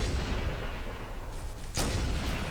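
Turret gunfire in Halo, a dense continuous roar of heavy shots with a sharper burst near the end, loud and filling the whole clip.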